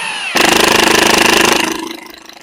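A Hercules 20V cordless 7/16 in. high-torque impact wrench hammers in a loud, rapid, steady pulsing burst, close up, then winds down and fades.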